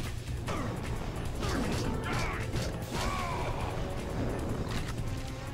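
A mechanical elevator in the video game Psi-Ops grinds and creaks steadily, a continuous low rumble with metallic squeaks rising over it.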